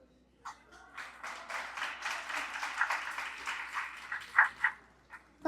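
An audience at a conference discussion on the construction industry gives a moderate round of applause that swells after a brief pause, holds steady, then tapers off with a few scattered final claps.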